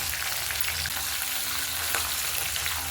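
Chillies, curry leaves and garlic cloves sauté in hot oil for an eggplant and peanut kara kuzhambu, giving a steady, dense sizzle and crackle that runs unbroken throughout, loud and close, with no voices.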